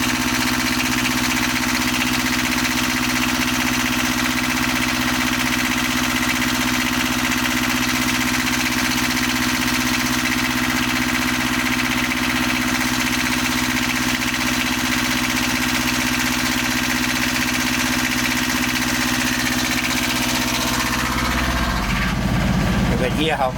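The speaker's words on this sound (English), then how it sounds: "let's just take a little look at my engine while it is running." Small 20 horsepower boat engine idling steadily aboard a wooden boat, a close, droning mechanical hum with a faint knocking pulse, running unchanged for over twenty seconds before a brief rustling disturbance at the end.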